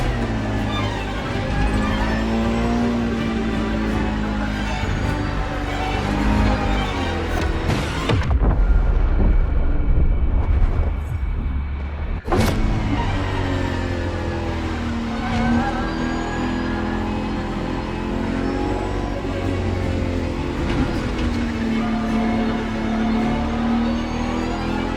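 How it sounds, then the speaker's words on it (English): Ferrari FXX K, a LaFerrari-based track supercar, driven in the racing game The Crew Motorfest: a loud, sustained engine roar rising and falling with gear changes, with a brief harsher rushing break midway. "For this second lap, you'll be driving the FXX K."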